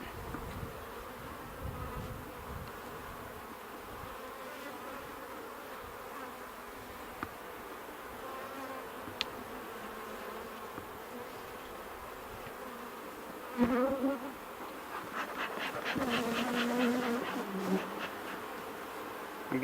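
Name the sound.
honeybees buzzing around an open hive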